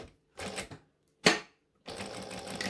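A sewing machine stitches close by in short bursts, a soft rapid mechanical rattle broken by pauses and one sharper clack.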